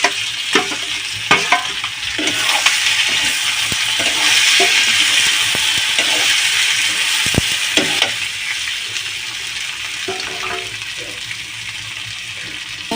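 Onion and potato sizzle in a pan, a steady hiss with scattered stirring clatter and a few brief splashes of water. No voices.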